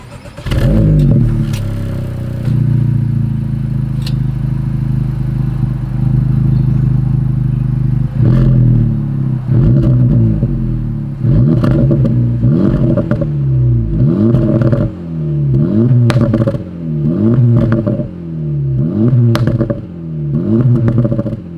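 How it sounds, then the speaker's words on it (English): A 2024 Acura Integra Type-S in Sport Plus mode idles with a deep exhaust burble, then revs repeatedly in sharp rising and falling bursts, loud and close, with only a brief word spoken. "As always, here is that exhaust clip."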